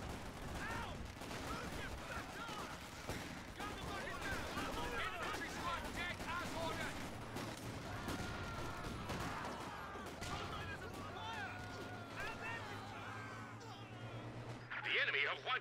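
Anti-tank guns in Company of Heroes fire in scattered sharp cracks and bursts amid battle noise, with someone talking over much of it.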